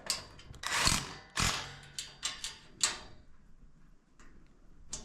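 Screws are driven into a twin-over-twin bunk bed frame with a ratcheting tool: a series of close clicking, rattling bursts of varying strength.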